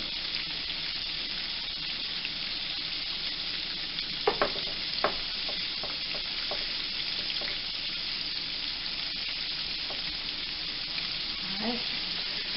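Chicken pieces for a spicy pickle-brined Chick-fil-A-style sandwich fry in a pan, a steady sizzle running throughout, with a few brief clinks and knocks midway and soft water sounds near the end.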